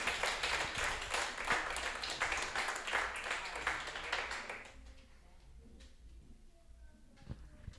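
Studio audience clapping on a game show, a brisk burst of many hands for about five seconds that then stops abruptly, leaving quiet room tone with a few faint taps.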